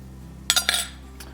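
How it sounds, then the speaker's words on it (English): A spoon clinks against a pot of sausage and potato soup while stirring, a quick cluster of metallic taps and scrapes over a steady kitchen hum, then one last faint clink. "I'm gonna stir this up."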